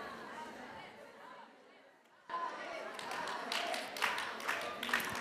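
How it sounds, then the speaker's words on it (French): Applause rises from an audience at a plenary session of a paediatric conference. Quiet murmuring comes first, then clapping breaks out suddenly and builds, fairly distant and moderate, with some chatter underneath. "Bravo, on peut les applaudir."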